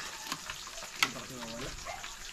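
Lapu-lapu fish frying in a pan of hot oil, giving a steady close sizzle with a sharp pop about halfway through and a few quieter crackles.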